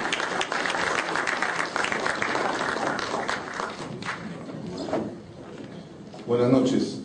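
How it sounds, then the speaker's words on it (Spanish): An audience at a professional forum in Peru applauds steadily for several seconds, a dense wash of clapping that fades before a voice and a brief bump at the end. "Un aplauso para recibir al decano del Colegio de Estadísticos del Perú."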